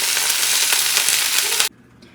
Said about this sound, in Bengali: এখানে রান্না হচ্ছে ফুলকপি দিয়ে আলু ভাজা